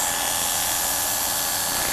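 Electric clippers shave hair from an animal's leg in preparation for an orthopedic procedure: a steady, close, high-pitched motor buzz that holds unbroken for the whole stretch.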